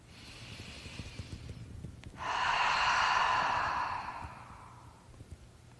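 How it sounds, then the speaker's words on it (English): A single deep, slow breath during a progressive relaxation exercise, a soft airy sigh lasting a couple of seconds, quiet and close. "Take a breath."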